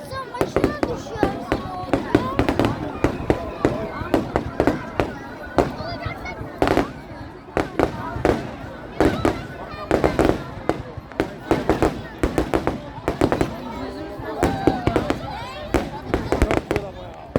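Fireworks bursting at a 4th of July display in Karamürsel, Turkey: repeated sharp booms and crackles in irregular quick succession, with people chatting throughout.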